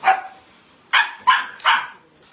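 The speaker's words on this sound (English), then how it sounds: "That puppy's not happy." An unhappy puppy gives four short, sharp yelping barks in quick succession, close and fairly loud, with a faint whimper trailing at the end.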